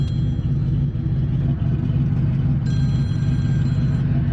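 Steady low engine rumble from a turbocharged Ford Mustang with a big torque converter, driven through city streets at part throttle, heard from inside the car with no talking and a faint high whine partway through.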